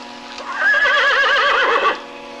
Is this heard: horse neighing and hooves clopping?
yes